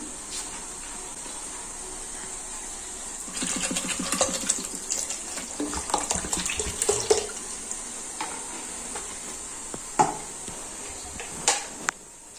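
Cold water poured into a container of churned butter, heard as a splashing, gurgling pour that starts partway through, followed by a few sharp knocks and sloshes nearby.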